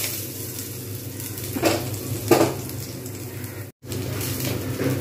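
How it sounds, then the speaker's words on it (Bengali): Onions and fenugreek seeds fry in a pan with little oil, giving a steady close sizzle broken by a couple of scraping stirs and one brief cut-out. "পেঁয়াজগুলো দিয়ে কিন্তু যতক্ষণ পর্যন্ত না নরম হয় আমি ততক্ষণ পর্যন্ত কিন্তু আমি পেঁয়াজগুলো ভাজতে থাকবো"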